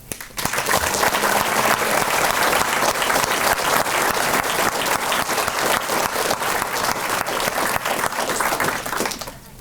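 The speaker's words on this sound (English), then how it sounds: "So a round of applause for family." Crowd at an outdoor Veterans Day ceremony in St. Croix County breaks into sustained applause, many hands clapping in a dense, even roar that holds steady for several seconds before tapering off.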